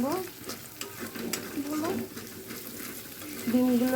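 Eggs seasoned with salt and turmeric fry in a pan for a pasta dish, with continuous sizzling and busy stirring scrapes close by and a voice briefly audible over it.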